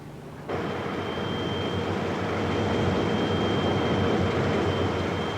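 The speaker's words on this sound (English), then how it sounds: "The 33-metre craft is handsomely powered by a 5-cylinder turbocharged diesel motor, which according to the engineer purrs like a kitten." 5-cylinder turbocharged diesel engine powering a 33-metre craft, a steady low droning rumble that starts abruptly and holds evenly, close and fairly loud with no voices.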